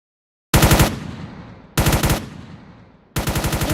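Three bursts of rapid automatic gunfire from a gun with unlimited ammo in the Roblox ACS shooter game ring out loud and close, each rattling volley fading quickly before the next begins.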